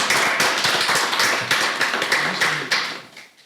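Audience applause at a Nigerian school debate competition, a dense burst of clapping that starts loud and gradually thins and fades over a few seconds, with no voices over it.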